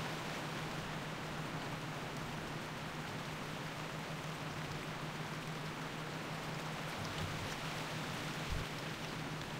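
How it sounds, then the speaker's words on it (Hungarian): Pouring rain in the video game World of Warcraft Classic makes a steady, dense wash of noise that fills the whole stretch evenly and quietly, with no voices. "De ez a szakadó eső mikor?"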